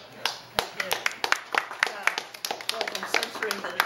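Scattered hand claps from a small audience at a university poetry reading in a gallery space, loud, irregular individual claps close by with gaps between them rather than a full ovation.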